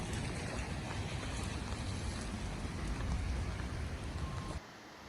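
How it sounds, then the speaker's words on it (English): Rain patters steadily and densely on a plastic bag held over someone's head outdoors, a close, continuous crackling hiss that drops off abruptly near the end. "It was raining and I had the bag over my head."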